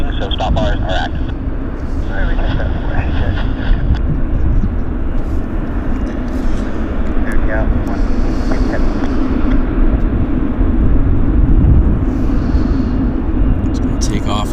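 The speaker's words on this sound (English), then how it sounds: "there's a FedEx 757 on the field. I'll show you. It's taking off, actually." A FedEx Boeing 757 jet roars steadily at Vancouver airport while taxiing for takeoff, a broad engine rumble heard from a distance under people talking and radio chatter.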